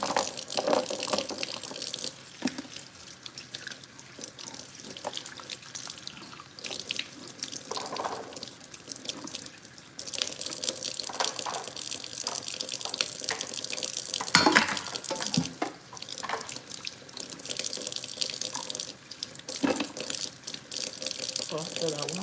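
Water runs from a faucet into a sink while dishes are washed indoors, with a steady hiss, splashing and occasional clinks, fairly quiet and continuous.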